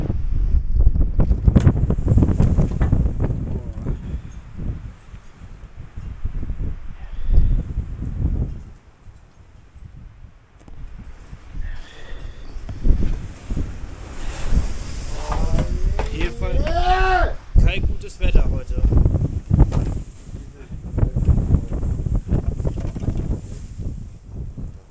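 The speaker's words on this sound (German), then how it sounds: "Peitscht hier die ganze Zeit rein mit Schneesturm." Strong snowstorm wind roars and buffets the microphone in heavy, uneven gusts on a snowy mountain, with a person talking at times beneath the rushing noise.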